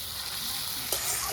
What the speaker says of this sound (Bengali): প্রথমে চিংড়ি মাছগুলো একটু হালকা করে ভাজবো